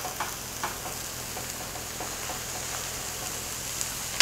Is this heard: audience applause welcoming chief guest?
no